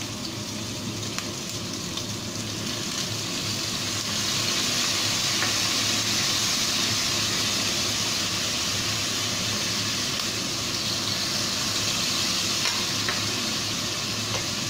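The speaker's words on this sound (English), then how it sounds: "And let's give a stir." Pork belly with ginger and light and dark soy sauce sizzles loudly and steadily in a hot pan, with a continuous dense hiss and stirring over the whole stretch and no voices.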